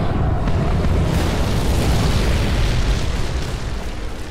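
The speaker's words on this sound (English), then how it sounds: "They're now gonna actually bombard these guys" Heavy bombardment explosions dropped from an airplane in the video game Fallout New Vegas, a continuous loud rumbling roar of blasts filling the whole stretch with no talk.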